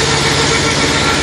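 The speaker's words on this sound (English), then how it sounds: "Here we have a little tractor" A small tractor engine idles steadily and loudly up close, a constant low rumble with no breaks or changes, alone with no talk.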